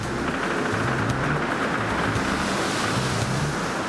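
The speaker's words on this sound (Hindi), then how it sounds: "सागर के सीने को चीरता हुआ जहाज अपने सफर में है।" A ship ploughs through open sea, waves and surf washing steadily against the hull with wind gusting across the microphone; a continuous, broad rushing wash with a low rumble underneath, no voices.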